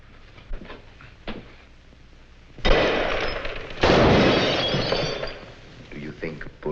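Gunfire in a 1948 horror-thriller film noir, with two loud, sharp bursts of shots and clatter that ring out over surrounding film dialogue and room sound.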